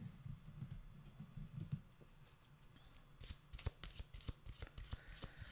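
Oracle cards being shuffled, soft riffling and flicking in quick irregular bursts, close and quiet, with no talking.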